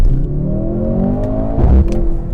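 Close and loud, a Mercedes-Benz C63 AMG engine accelerates hard in second gear, its note rising steadily before a brief clattering thump and a short shift in tone near the end.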